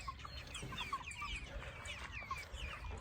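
Chickens in a chicken tractor on a farm in spring, clucking and chattering continuously, several birds overlapping close by over a steady outdoor background.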